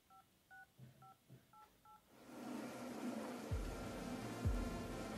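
Phone keypad tones beep in a quick series of about seven short presses as a number is entered, faint and close, followed by a rise of rustling background noise and a couple of soft thumps.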